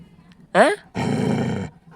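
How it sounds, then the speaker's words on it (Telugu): A dog close by gives a sharp, high yelp, then a longer, rough growling bark, with brief quiet in between. "కుక్క వచ్చిందంట"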